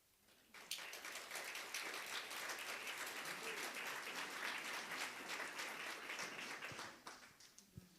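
A conference audience breaks into applause that starts abruptly, holds as a thick, sustained clatter of many hands for several seconds, then thins and fades out, with scattered individual claps toward the end.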